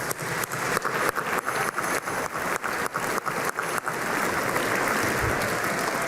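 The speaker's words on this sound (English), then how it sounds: "Please give yourselves a round of applause." Audience applause at a school winter concert: a dense crowd clapping, with a few loud sharp individual claps standing out rhythmically over the first half before settling into an even wash.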